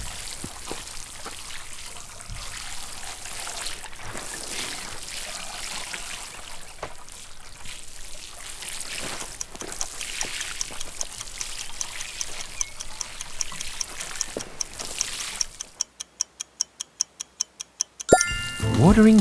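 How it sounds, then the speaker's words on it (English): Water poured from a watering can runs in a steady trickling stream for most of the clip, near and moderately loud, then gives way to a short run of sharp regular ticks before ending. "Watering can pouring water."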